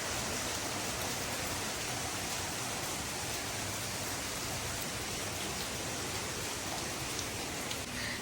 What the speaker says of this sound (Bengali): এই দেখো বাইরেটা পুরো অন্ধকার হয়ে গেছে, প্রচন্ড বৃষ্টি হচ্ছে।